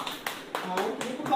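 Several people clap in brief bursts at a political gathering, the claps close and fairly loud, with voices talking over and between them.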